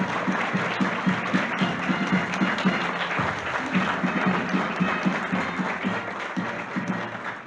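Warm, sustained applause from a seated crowd at a school-year opening ceremony as the ceremonial flag is brought in, a dense, even clapping that continues steadily for over seven seconds.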